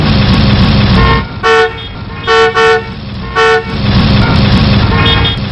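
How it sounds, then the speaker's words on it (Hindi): A car horn honks in short bursts, one single toot and then several close together, each loud and near, over steady road traffic rumble. "हॉर्न पर हॉर्न दे रहा हूँ, आप हैं कि सुनते ही नहीं?"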